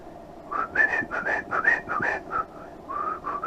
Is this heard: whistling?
yes